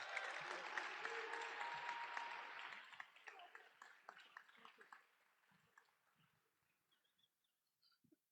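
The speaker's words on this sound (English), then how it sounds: "let's give them a round of applause" A crowd at a university athletics awards ceremony claps loudly for a few seconds, then the applause thins out into scattered claps and fades to quiet.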